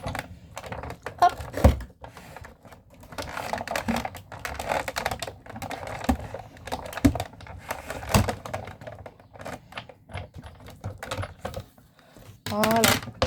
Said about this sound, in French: vous venez embosser votre feuille de papier